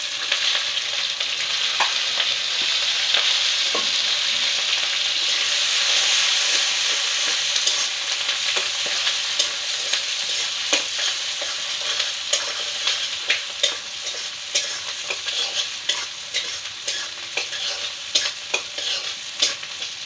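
Onion and green chili frying in a pan, a steady loud sizzle with occasional clicks of stirring throughout, no voices.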